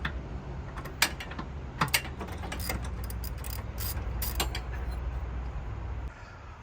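Ratchet clicks and mechanical rattling while a 14mm bolt on a Honda CR-V 1.5T engine-side motor mount is loosened, several sharp bursts over steady low workshop hum, close and moderately loud.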